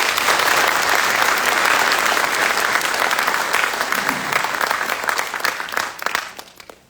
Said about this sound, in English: can everyone join me in a round of applause to this amazing graduating class?